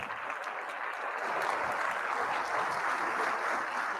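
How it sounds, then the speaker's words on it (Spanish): An audience claps at a web conference in Ecuador, a steady wash of applause that swells slightly and holds for a few seconds. "Un fuerte aplauso."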